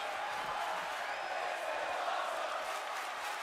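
A virtual arena crowd in the WWE 2K25 wrestling video game roars during a match, a steady, dense wall of cheering and whoops at even loudness throughout, without distinct claps or voices standing out.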